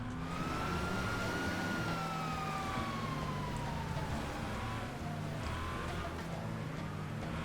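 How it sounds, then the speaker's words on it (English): Police siren in Grand Theft Auto 5, a wailing tone that rises and falls over a rumbling in-game car engine, moderately distant and steady throughout. "Do I hear another cop? Or is that the same cop?"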